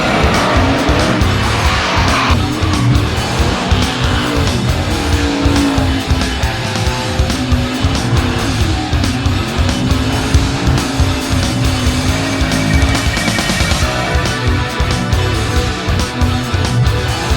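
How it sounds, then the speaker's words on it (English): High-horsepower D1NZ Pro drift cars slide along a seaside street circuit at a motorsport festival, with continuous loud tire squeal over roaring, revving engines for the whole stretch and no speech. "the iconic Port Loop Highway at Timaru's Caroline Bay was turned into a high-octane drifting stunt, where both Kurt and Shane unleashed their"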